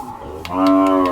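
A single loud, drawn-out moo from a calf or young cow close by at a Thai cattle market in Tak, rising quickly and holding steady for most of the clip, with no talk over it.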